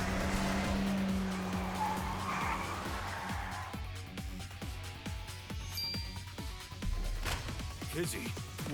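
Car engine and tyre squeal in the AI: The Somnium Files nirvanA Initiative video game, with a skidding screech early on under steady talking.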